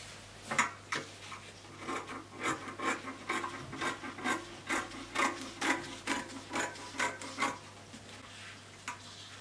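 Scissors cutting out fabric for a sleeve, a close series of about a dozen quiet, rasping snips at a steady rhythm with no talk.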